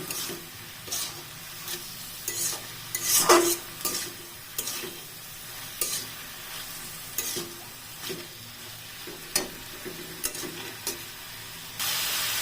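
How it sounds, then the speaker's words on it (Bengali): Water spinach being stir-fried in a pan, with a soft background sizzle broken by repeated scraping strokes of a spatula at an irregular rhythm and one sharper clatter of metal early on, close and without talk. "এখন এইভাবে নাগাটা নাড়তেই হবে যতক্ষণ ভাজা হয়"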